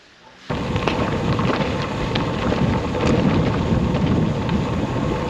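Steady rain sets in abruptly and keeps up a dense, even hiss on a gravel bike track near Glengorm castle on the Isle of Mull.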